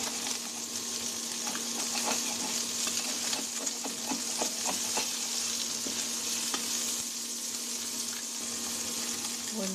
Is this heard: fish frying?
yes